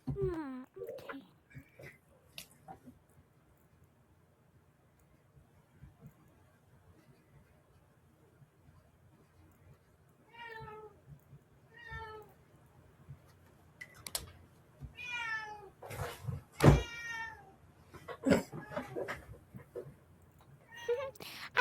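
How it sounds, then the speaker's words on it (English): A pet cat named Charlie meows repeatedly in the background indoors, with a series of drawn-out, wavering cries that grow more frequent and louder toward the end, amid occasional keyboard clicks and faint talk. "is my cat Charlie in the background. He's just meowing today."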